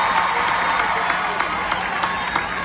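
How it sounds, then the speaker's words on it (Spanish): An audience applauds for Juan Ramón Gómez Díaz at a Romeo Santos show, giving dense, steady clapping and crowd noise with a few sharper claps standing out through the whole stretch. "Una fuerte aplauso para el señor Gómez Díaz"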